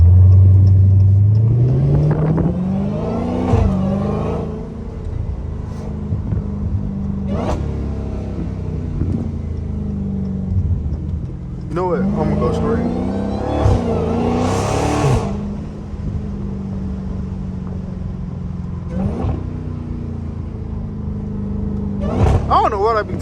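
A Dodge Hellcat's engine revs and rumbles through city streets, loud and close, with repeated throttle blips and surges over a steady low drone while someone talks over it at times.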